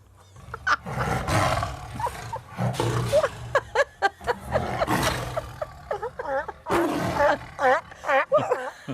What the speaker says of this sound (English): the local lions and tigers roaring